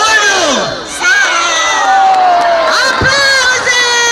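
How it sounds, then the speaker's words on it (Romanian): A Christmas tree lighting crowd, many children among them, erupts in loud cheering, shouts and whoops right after a countdown, a dense continuous roar with rising squeals throughout. "Aplauze!"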